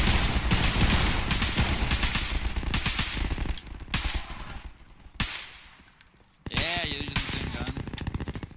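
Rapid gunfire from a sniper rifle in Garry's Mod with the Customizable Weapons 2.0 mod, loud bursts of shots running densely through most of the stretch, a brief lull near the end, then renewed firing.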